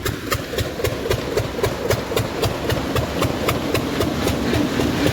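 A peanut thresher and sheller machine runs continuously, close and loud, with a fast regular mechanical knocking over a dense rumbling drone.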